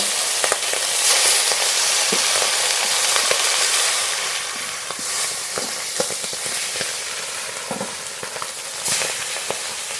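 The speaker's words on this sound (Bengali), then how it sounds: "তেলে বাকি মাছগুলো ভেজে নেব" Pieces of rohu fish fry in hot oil in a home kitchen, a loud continuous sizzle and hiss with scattered sharp spits and crackles throughout, close and steady.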